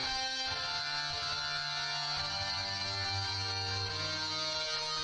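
Guitar strums chords in step with a piano line in a homemade fighting game soundtrack, a steady sustained layer of harmonic tones running continuously and fairly full for about five seconds with no voices.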